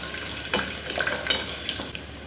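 Ingredients for masala dalia upma frying in oil inside a pressure cooker, a continuous close sizzle with a few louder crackles and stirring scrapes, moderate in level, no speech.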